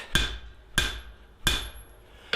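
A forging hammer strikes hot metal on an anvil four times, about every 0.7 seconds, each blow a sharp, bright, ringing clang that decays quickly, heard up close with no talking.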